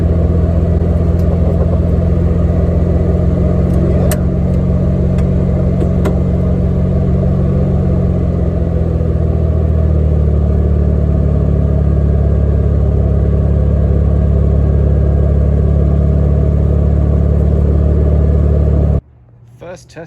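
A 1971 Karmann Ghia that sat for over 20 years runs loud and steady on its first test drive, a deep continuous rumble that abruptly cuts out near the end as fuel stops feeding.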